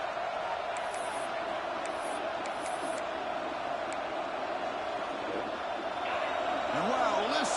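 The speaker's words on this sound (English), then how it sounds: "listen to this crowd noise. This stadium is vibrating" A football stadium crowd at an Oregon game keeps up a dense, continuous roar, loud and unbroken, swelling slightly near the end, with faint whistles and calls on top.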